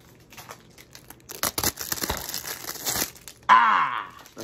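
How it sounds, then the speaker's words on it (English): Plastic wrapping crinkled and torn during the unboxing of an Elvis King Creole 1958 anniversary edition, close and irregular rustling bursts building through the middle, followed by a brief spoken remark at the end. "Sounds of plastic."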